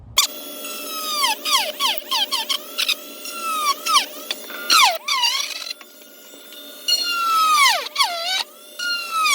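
Holes are made in a plastic Toyota Supra RC car body for a Tamiya TT01 chassis, producing a series of close, squealing pitch sweeps that repeat in short bursts, with brief gaps between them.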